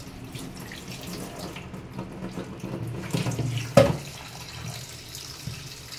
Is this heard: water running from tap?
yes